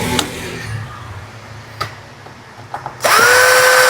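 A power drill backs screws out of a JBL Bar 3.1 subwoofer, giving short whirring bursts over low hum and finishing in a louder sustained spin with a rising whine.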